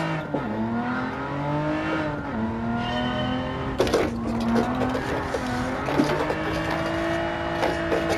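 Engine of a 455-horsepower car on sports tires drifting in Gran Turismo 7, revving and holding high pitch, with sustained shifting tones, dips between pulls and a few sharp transients, heard alone without talking.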